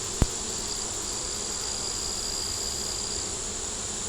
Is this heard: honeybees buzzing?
yes